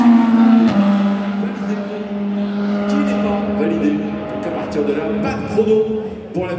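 The BMW number 15 race car runs during 2025 24 Hours of Le Mans Hyperpole qualifying, its engine a loud, sustained, droning note whose pitch wavers and shifts as the car goes by.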